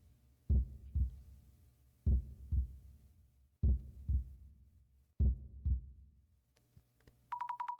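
Heartbeat in a video game boss battle, four loud, close double thumps spaced evenly apart, then a brief high ringing tone at the end, with no voices.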